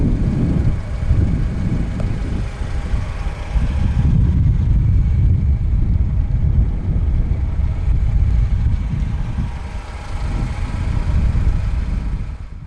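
A 2010 Alfa Romeo 159 with the 2.2 JTS petrol engine idling, a low, even hum close by with some wind buffeting, no talk.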